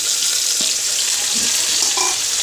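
Constant hissing sizzle of plantain frying in a pan, close and fairly loud, with a couple of faint clinks of stirring.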